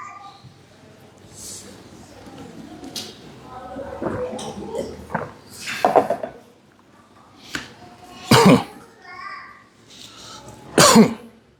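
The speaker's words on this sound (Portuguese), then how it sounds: "Acho que estou tossindo em cima do negócio aqui" Several coughs and throat clearings from a preacher during a church sermon, close to the microphone, coming as loud bursts with quieter handling and background noise between them.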